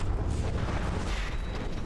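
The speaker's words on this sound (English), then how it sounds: "Shells come in, the crams pop in, make big" Continuous rumbling barrage of naval shell explosions in the warship battle game From the Depths, dense low booms merging into a steady roar with no talk.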